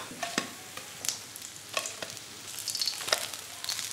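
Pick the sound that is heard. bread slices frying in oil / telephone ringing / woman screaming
bread slices frying in oil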